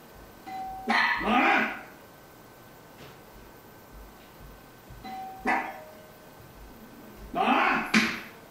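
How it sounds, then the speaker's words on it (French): A doorbell chimes twice, each followed by bursts of dog barking at moderate distance, with quiet pauses between; some faint voice in the background. "au moment où le chien jappe"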